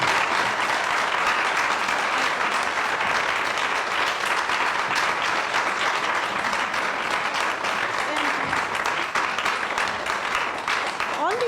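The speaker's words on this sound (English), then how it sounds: "So you give them a round of applause" Sustained applause from a symposium audience thanking a panel, steady and dense throughout, with faint voices mixed in near the end.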